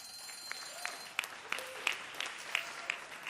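An audience at a university constitutional debate competition gives a round of applause for both teams. The clapping is thin and scattered, with separate distinct claps spread across a few seconds, heard at a moderate distance.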